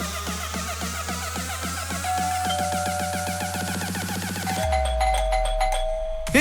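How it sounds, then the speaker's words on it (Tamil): An electronic doorbell plays a bright chiming melody, loud and close, its repeating tones shifting to a different ringing pattern near the end. "இப்ப யாரு காலிங் பெல் அடிக்கிறது?"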